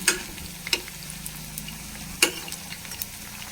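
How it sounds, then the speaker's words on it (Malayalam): Potato pakoda fry in hot oil with a steady, close sizzle, while a utensil flips them with a few sharp clicks and taps. "നമുക്ക് നമ്മുടെ പൊട്ടറ്റോ പക്കോട ഒന്ന് മറിച്ചിടുന്നത് കാണിച്ചു കൊടുക്കാം"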